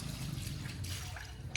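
Tap water runs steadily at close range in a home while a car battery is being cleaned, a soft continuous wash with a brief brighter splash at the very end.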